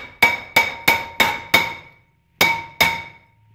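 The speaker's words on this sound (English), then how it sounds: "we're just gonna take our old friend here, Mr. Hammer, and just kinda beat the hell out of the rotor" A hammer strikes a rusted brake rotor on a Chrysler Town and Country, seven loud ringing metallic blows close up, five evenly spaced, then a short pause and two more, each leaving a brief ringing decay.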